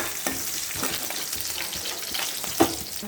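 Garlic, curry leaves and broken red chillies crackle in hot oil for an Andhra-style dal tempering, a dense close sizzle with a brief sharper pop near the end.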